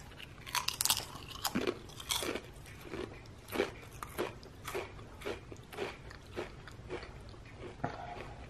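Original salted Pringles chips being bitten and chewed close to the microphone: a steady run of crisp crunches, roughly one every half second, over a quiet background.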